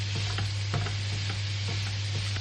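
Lamb with onion and turmeric sizzles in a pan under a constant hiss, with faint soft stirring scrapes and a steady low electrical hum throughout, no voices.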